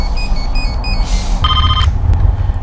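A telephone rings briefly in a building, a bright tonal electronic ring burst standing out over a low background hum and rumble.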